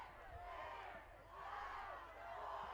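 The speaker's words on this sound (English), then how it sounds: "The crowd counting it down." A crowd at a University School state final game chants rhythmically in swelling waves, counting down the final seconds, distant and fairly faint.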